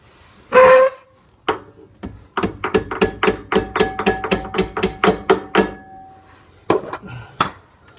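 A hammer strikes the front brake caliper on a 2009–2015 Cadillac CTS-V during a pad change: a sharp opening knock, then a steady run of a dozen or so close, ringing metallic taps, with a few final hits after a short pause.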